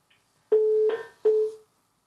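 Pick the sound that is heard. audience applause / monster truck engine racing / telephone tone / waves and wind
telephone tone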